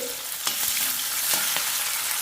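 Steady crackling sizzle of sliced onion and green chillies sautéing in hot oil in a pan, with a few brief scraping stirs; close and continuous, no talking.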